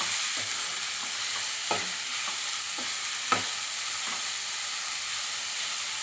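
Egg fry cooking in a pan, with a steady broadband sizzle and hiss throughout, near and even, broken by a few light stirring clinks and scrapes.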